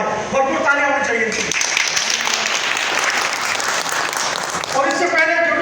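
An audience claps loudly and steadily for several seconds, a dense roar of hands filling the room, with a voice speaking briefly at the start and again as the clapping fades.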